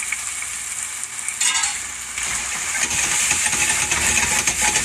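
Spicy Italian sausage, taken out of its casings, sizzling and frying in a pan with steady crackle and occasional stirring scrapes, close and fairly loud, no talk.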